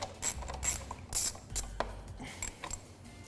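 An 8mm socket on a ratchet backs out fan shroud bolts on a 2007-2018 Jeep Wrangler JK, making short bursts of clicking at close range, with several quick ratcheting strokes and brief pauses between them.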